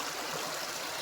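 Creek water flowing steadily as a soft, continuous wash and trickle outdoors, with no voices over it.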